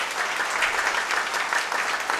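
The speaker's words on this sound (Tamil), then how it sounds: "கைத்தட்டு பத்தாதியா?" Steady applause from a crowd at a Tamil political speech, dense continuous clapping with no voices over it.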